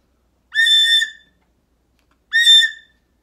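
Two high-pitched whistled notes, each sustained for about half a second with a clear, steady tone, separated by a pause and heard alone in otherwise silent surroundings.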